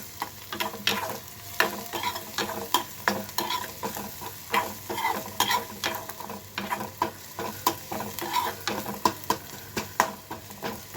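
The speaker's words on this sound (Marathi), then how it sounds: "कांदा परतवून झाला, अजून परतला नाही, थोडा अजून परतायचा आहे." Chopped onion sautéing in a pan with salt for potato bhaji, a steady sizzle broken by frequent rhythmic scrapes and clicks of a spatula stirring, close and unaccompanied by speech.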